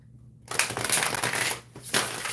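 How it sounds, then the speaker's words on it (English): A Dark Goddess tarot card deck is shuffled close up, with a burst of riffling and rustling that pauses briefly and then starts again. No one speaks. "I'm going to say I'm not a big fan of the shuffling just yet"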